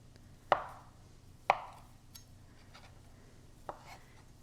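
Knife chopping biscuit dough into small bites on a board: two sharp, distinct cuts about a second apart, then a softer third cut after a pause, in a quiet room.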